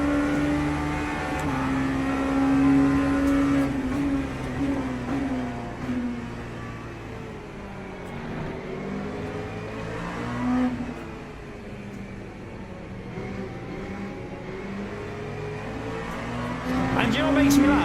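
LMP2 race car engines in the Le Mans Ultimate sim racing game, a continuous high revving drone with gear changes and rising and falling pitch as cars run close together.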